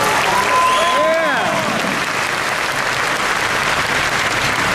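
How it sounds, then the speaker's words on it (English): A large audience at a 2016 OneCoin event in London breaks into loud, sustained applause, dense and continuous throughout, with a voice briefly audible over the start. "Can you give all of yourselves one big applause?"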